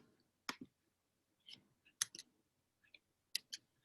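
Typing on a keyboard, with quiet irregular clusters of crisp key clicks separated by short pauses, close and alone.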